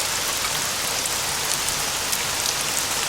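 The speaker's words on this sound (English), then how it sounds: "Rain begins to pour down, and they go running for cover." Heavy rain pouring down, a dense, even hiss of drops striking surfaces, steady and close throughout with no talk.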